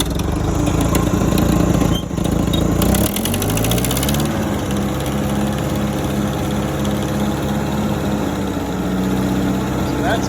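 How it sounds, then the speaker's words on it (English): A Ford 8N tractor engine after a tune-up with new points, plugs and condenser runs steadily and loudly up close, its pitch climbing partway through as it revs up, then settling into a steady high idle. "And now she's revving on up there"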